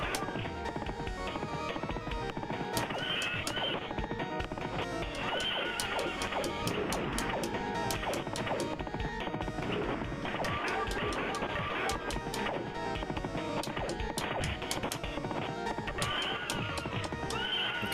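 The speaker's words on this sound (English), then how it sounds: "that horse is pretty good" A horse in an arcade video game neighs and its hooves clip-clop, heard throughout a dense, busy mix of game music and effects at a steady level.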